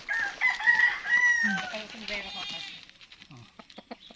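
A labuyo junglefowl rooster crows once, loud and near, and then clucks in short bursts, with people talking nearby.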